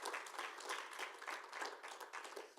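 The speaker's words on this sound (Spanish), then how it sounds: "Dale un aplauso fuerte al Señor." Congregation clapping in a church service, a steady wash of many hands applauding throughout, moderately loud with no speech over it.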